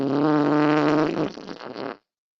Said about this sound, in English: you hear the second noise, the fart?